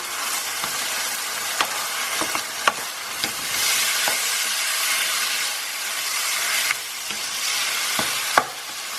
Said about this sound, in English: And we're going to cook this mince till it's all done.